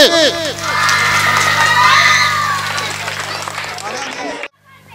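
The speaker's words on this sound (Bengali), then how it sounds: "জোরসে হাততালি" Applause from an audience at a stage evening dedicated to women's power, steady clapping throughout under a loud voice, then cutting off abruptly near the end.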